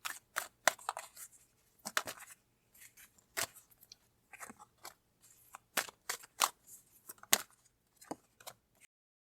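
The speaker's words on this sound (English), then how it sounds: "I'm going to pull some cards to go with this one first." Tarot cards are drawn from a deck, making soft, close, irregular rustles, slaps and flicks of card stock over several seconds, with no one speaking.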